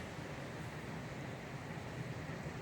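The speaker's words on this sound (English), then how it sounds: "look at the wind in these trees" Strong wind roars steadily through trees on a high-wind day, a continuous dense rush with no gaps and no voices.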